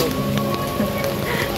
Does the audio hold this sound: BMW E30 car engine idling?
no